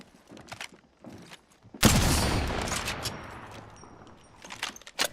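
A sudden burst of rapid gunfire erupts in a battle royale video game, a loud fusillade that decays over a few seconds, framed by scattered softer clicks and footsteps before and after.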